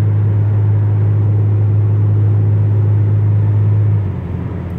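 A 2015 Chrysler 200S AWD with its muffler deleted cruises on a highway, a loud steady low engine drone that drops slightly in pitch near the end as it downshifts.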